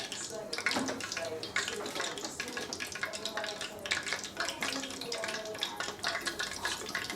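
Squid washed under running tap water in a kitchen before becoming tempura, a steady near splash and rush of water with handling noises, and a voice talking underneath.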